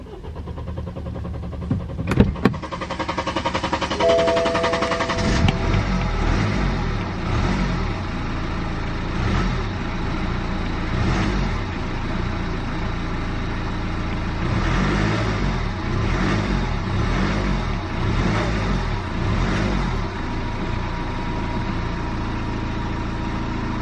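A BMW E90 3 Series engine cranks and catches after a few sharp clicks, restarting after cutting out, then settles into a steady, close running rumble with slight fluctuations.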